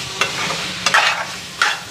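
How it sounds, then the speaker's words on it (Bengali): Spices frying in a pan while being stirred, a low sizzle under three distinct scraping stirs spaced through a short stretch, close and fairly loud. "মশলাটা ভাজা হোক, পরে চানাগুলি দিন।"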